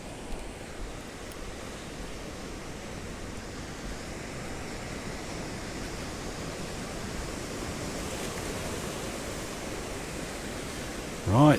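Surf rolls in continuously at St Clair Beach, a steady broad wash of breaking waves with light wind over the microphone and no distinct individual crashes.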